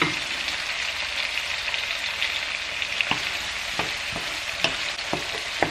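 Onions fry in plenty of oil, giving a loud, continuous close sizzle with occasional crackles and light stirring taps throughout.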